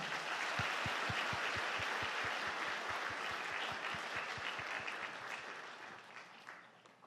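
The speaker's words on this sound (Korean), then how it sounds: "우리 명예권사로 추대받으신 분들을 박수로 축복하겠습니다." In a Korean church afternoon service, the congregation applauds newly installed honorary deaconesses with a long burst of many hands clapping. A few louder, rhythmic claps stand out near the front before the applause slowly fades toward the end.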